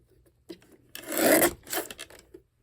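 A paper trimmer cuts a sheet of journal paper: a small click, then a rasping slide of the blade across the paper, with a second shorter swipe and a soft tap. The sounds are close and quiet, with no talk.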